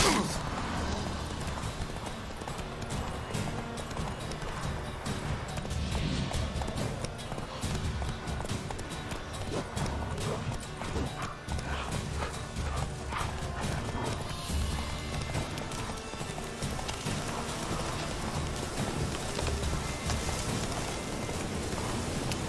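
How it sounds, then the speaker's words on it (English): Horse hooves galloping in The Witcher 3 open-world game, a fast continuous clip-clop rhythm of hooves on the ground running steadily under a dense ambient soundscape, with occasional faint speech. "Run, Roach."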